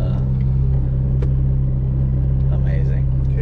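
A 1JZ-swapped Lexus IS300 street car with a sequential gearbox rumbles loudly and steadily nearby, a deep continuous engine drone throughout with faint voices on top.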